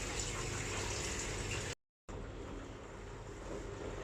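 Liquid drains out of a brewing pot beside a sink during mango beer making, a steady rushing flow that cuts out for a split second and then resumes. No one speaks.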